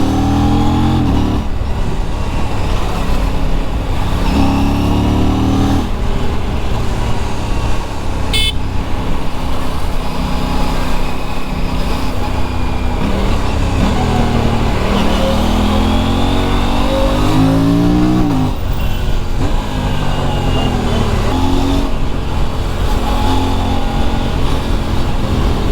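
Busy street traffic in Vizag, India, mostly motorbikes with a few cars, rumbles loudly and continuously nearby, with engines revving past and frequent horn toots throughout.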